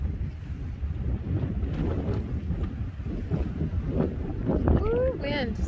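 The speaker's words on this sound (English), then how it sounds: "Sorry, the wind is very, very powerful. It's jostling my camera." Strong wind buffets a handheld camera beside Lake Stanley in Stanley, Idaho, a steady rumbling roar across the whole stretch, with gusts swelling and a brief higher whistling sound near the end.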